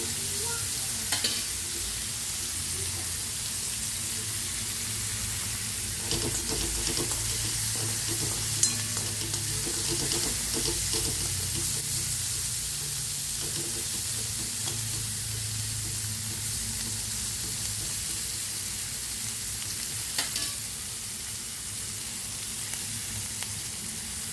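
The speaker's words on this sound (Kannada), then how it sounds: "ಈರುಳ್ಳಿ ಎಲ್ಲ ಚೆನ್ನಾಗಿ ಫ್ರೈ ಆದ ನಂತರ" Onions frying steadily in a pan for an ivy gourd curry, a continuous dense sizzle with occasional stirring scrapes, close and moderately loud, no voices.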